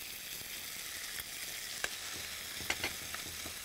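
Tomatoes tipped into sautéing onions in hot oil give a steady, close frying sizzle with a few sharp pops and crackles, and no voices are heard.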